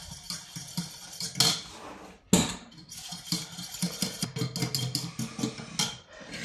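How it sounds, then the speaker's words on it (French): A utensil stirs white chocolate melting into cream in a bowl for a white chocolate Yule log, with irregular scraping and clinking against the bowl, one sharp knock partway through, close and unaccompanied by talk. "Et je remue de façon à ce que ça fonde"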